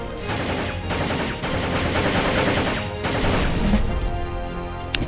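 Anti-aircraft guns in the strategy game Rise of Nations keep up a dense, continuous clatter of rapid shots and bursts, loud and steady, with rhythmic crackling pulses layered over a low rumble.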